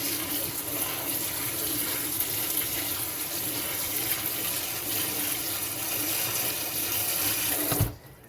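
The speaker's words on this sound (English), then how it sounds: "Go ahead and give it a shower." Water pouring onto a potted plant's dry soil and leaves, a steady close gushing splash like a running tap that continues evenly and then stops abruptly near the end.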